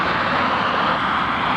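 A Ryanair Boeing 737 or Thomas Cook Airbus A320 taking off at East Midlands Airport, heard as a loud, steady broadband jet engine roar filling the whole stretch without voices.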